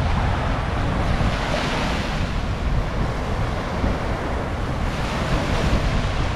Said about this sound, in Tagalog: dalampasigan